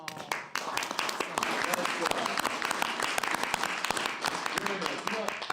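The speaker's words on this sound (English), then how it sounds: "Give him a round of applause." At a city council meeting, a small room of people applauds an employee award recipient, with distinct individual claps in a fairly close, steady round.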